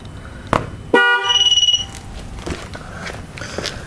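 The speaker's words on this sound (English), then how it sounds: "Should get a horn honk." A 2013 Camaro horn gives a single short honk to confirm a TPMS sensor relearn, loud and close, with a few faint clicks and shuffling around it.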